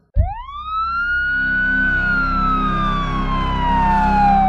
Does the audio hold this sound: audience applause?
no